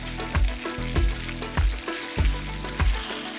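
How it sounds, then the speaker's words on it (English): Chicken stir-frying in oil in a regular pan on an electric stove, a steady sizzle broken by a series of rhythmic scraping stirs and clanks of the utensil against the pan, close and loud. "Now let's stir-fry the chicken."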